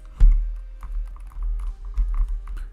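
Fingers typing on a computer keyboard, a short run of close, crisp key clicks in an uneven rhythm with a heavier thump at the start.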